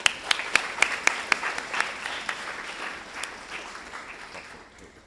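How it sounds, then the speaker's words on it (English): Audience applause at a university undergraduate games showcase, a few sharp individual claps at first blending into a dense, steady wash of clapping from a crowd that gradually fades over about five seconds. "Give a round of applause for yourselves."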